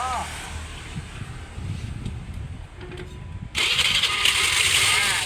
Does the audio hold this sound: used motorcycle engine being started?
yes